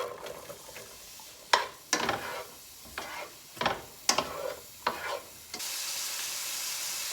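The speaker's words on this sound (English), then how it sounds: "I'm going to put the onions in the pan for about 2 minutes or until translucent" Onions fry in olive oil in a pan, a steady sizzle broken by several sharp stirring scrapes, with a louder hiss of sizzling at the end.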